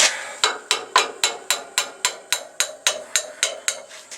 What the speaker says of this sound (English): Need something to beat on it with. The wrench probably work.